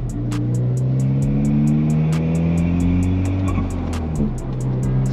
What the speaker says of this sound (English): the blow-off valve sounds a little bit louder, and it almost sounds like it's more responsive